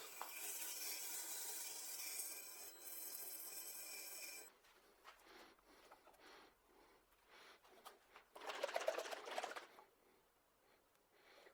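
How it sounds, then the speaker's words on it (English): A steady abrasive hiss of sanding against walnut-finished wood spinning on a lathe while turning a traditional Argentinian mate, stopping abruptly, followed by quieter scraping and another short burst of rasping. "Sanding, I guess."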